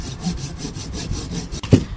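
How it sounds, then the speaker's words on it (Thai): A hand saw cuts through a main branch of a mango tree in an orchard, with rapid, steady back-and-forth strokes rasping through the wood and a sharper crack near the end, loud and close. "ตรงนี้ก็เหมือนกันเป็นกิ่งหลักแล้วก็เลื่อยออก"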